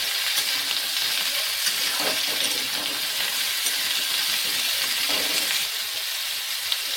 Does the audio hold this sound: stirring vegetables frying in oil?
yes